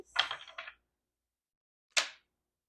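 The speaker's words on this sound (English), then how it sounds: "I want to shuffle more than that." Tarot cards are shuffled in two quick bursts: a short riffling flutter followed, after a pause, by a single crisp snap, close and with no voices.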